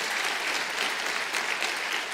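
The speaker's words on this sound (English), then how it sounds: "Let's need a round of applause." Steady, dense audience applause at a gaming fan convention, a continuous wash of many hands clapping at even volume throughout, with no voices rising above it.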